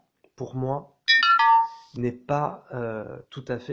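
A short bright electronic mobile phone beep chimes over someone talking in French, sounding briefly between his phrases.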